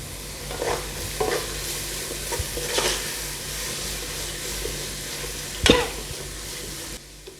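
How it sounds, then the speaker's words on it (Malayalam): Onions sauté in oil in a pan for Bombay biryani, a low steady sizzle broken by several scraping spoon stirs, one sharp clatter near the end before it cuts quieter. "സവാള നന്നായി വഴന്നു വന്നിട്ടുണ്ട്"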